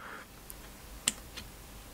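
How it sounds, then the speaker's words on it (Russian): A vape tank's top cap is twisted until it gives a single sharp click, preceded by a faint scrape and followed by a softer tick as the cap comes off, in a quiet room. "до щелчка, и снимаем крышку"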